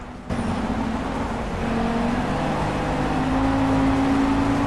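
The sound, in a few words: race car engine powering out in the video game Project Cars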